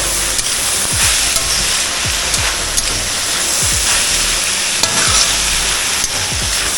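Onions with salt frying in a pan for a bitter gourd fry give a loud, steady sizzle, broken by repeated scraping strokes of a spatula stirring them, with no talking.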